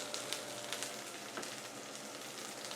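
Onions frying in a pan for beef dopiaza give off a soft, continuous sizzle with faint crackles and a stir or two, close and even throughout.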